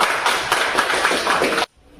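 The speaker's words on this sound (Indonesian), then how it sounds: "Tepuk tangan untuk kita semua." Brief burst of audience applause at an Islamic education class session in Indonesia, dense clapping for about a second and a half, then cutting off abruptly to near silence.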